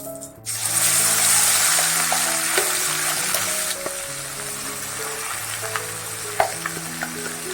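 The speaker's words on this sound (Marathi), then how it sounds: "असा परतून घ्यायचा आहे तेलामध्ये मिडियम ठेवायचा आहे गॅस" Coarsely crushed green chilli thecha fries in oil in a kadhai over a medium flame, giving a steady, loud sizzle that starts abruptly and continues throughout with light stirring clicks.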